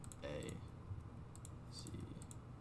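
A few soft keyboard clicks from letters typed on a computer keyboard during a hangman game, brief and close, over low background hum.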